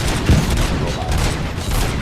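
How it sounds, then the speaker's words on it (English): Bursts of gunfire in a Robocop: Rogue City shootout, a dense, loud rattle of rapid shots that runs continuously through the moment with no gaps. "Gunshots?"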